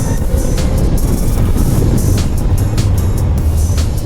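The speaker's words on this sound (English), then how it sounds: "I pegged the throttle on that one, and that's in street mode." A 2020 Zero SR/F electric motorcycle pulls hard at full throttle in street mode, a loud, steady rush of motor whine and wind noise that holds constant for several seconds, with no voices.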